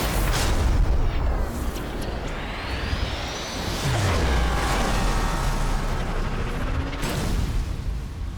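A deep, rumbling explosion from the video game Sniper Elite 4 booms and rolls on for several seconds, loud and dense with low roaring debris and a long sustained tail.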